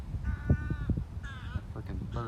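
Crow-like caws from a bird near a wetland with alligators, several harsh calls repeating over a low rumbling background while people talk nearby.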